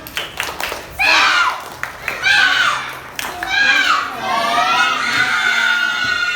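A group of Indonesian third-grade schoolchildren in a classroom chant loudly in unison, their voices rising in rhythmic bursts, with a few claps mixed in as the cheer builds.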